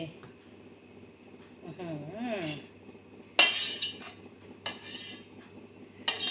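A ladle scrapes and clinks against a metal pot while scooping out Thai kaeng khilek, a thick coconut-milk cassia-leaf curry with pork skin. There are several sharp metallic scrapes close by, with a brief voice before them.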